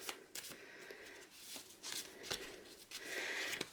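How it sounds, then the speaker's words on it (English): A deck of colour-coded prompt cards gets shuffled by hand, several quick riffling bursts with soft pauses between, close and fairly quiet with no talking. "We have our prompt cards here, all colour coordinated. So let's give them a shuffle."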